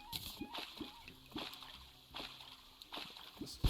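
Small splashes and sloshes of water trickling and leaking down in Terraria, several soft, brief bursts spaced through a quiet stretch, faint and close.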